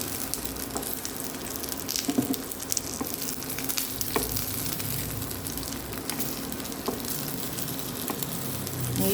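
Food fries steadily in a pan of hot oil, a constant close crackling sizzle with occasional pops and light clinks of a utensil turning the pieces.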